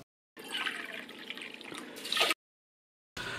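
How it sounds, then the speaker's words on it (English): Rice rinsed under cold running water in a kitchen, a close hissing splash of water in two bursts with a brief silence between them. "I'm just going to rinse it under cold water to get the starch off."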